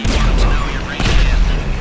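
An explosion in a first-person robbery-challenge video game, a loud close burst of rumbling blasts and crackling debris lasting under two seconds, with a voice partly mixed in.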